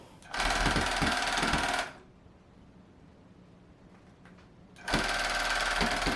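A handheld quilting gun runs in two loud, even motorized whirring bursts, each lasting about a second and a half, with a quiet pause between them.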